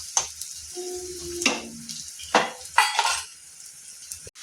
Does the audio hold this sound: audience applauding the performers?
no